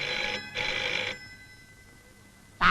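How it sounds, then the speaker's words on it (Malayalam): A telephone bell rings in two bursts, loud and close in a quiet room, before a sharp new sound cuts in at the end. "നാശം, നേരം വെളുത്തില്ല അപ്പോഴേക്ക് ഫോൺ കളി തുടങ്ങി."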